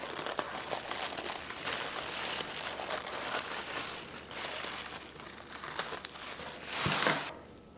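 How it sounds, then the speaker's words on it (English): Thin plastic sleeve being cut and peeled off a plant pot while potting amaryllis and paperwhite bulbs, a continuous close crinkling and crackling that swells to a louder rustle near the end and then stops. "So now I'm just gonna cut this bag off."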